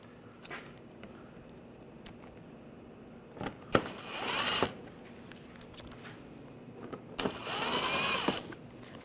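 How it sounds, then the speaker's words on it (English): Screws being driven and snugged into a bumper impact absorber on a 2009-2017 Volkswagen Tiguan, with two separate bursts of whirring power-tool noise around faint mechanical handling clicks, fairly close and with no talking. "put these screws in. Snug these down."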